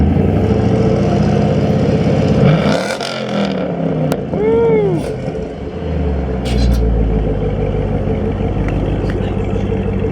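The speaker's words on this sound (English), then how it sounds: "Can we get a little baby rev?" A 2006 Chevrolet Silverado truck engine idles loudly up close, then gives a quick rev that swells and falls back before settling into a deep rumble, with people talking nearby.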